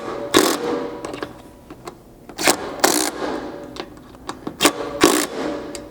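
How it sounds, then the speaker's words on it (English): Bolts being tightened on a roof rack mount of a 2-door Jeep Wrangler JK, heard as a series of sharp, close metallic ratchet clicks and clacks in irregular bursts, with no talking. "come down here and tighten these 2 mounting bolts."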